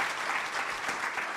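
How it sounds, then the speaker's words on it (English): Sustained applause from a lecture audience at a public talk, a dense steady clapping wash filling the whole moment without a break. "Let's give them another round of applause"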